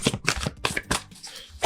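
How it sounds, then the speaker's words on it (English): Tarot cards are shuffled rapidly by hand, a close series of crisp riffling bursts in quick rhythm, with no talking. "give these another shuffle"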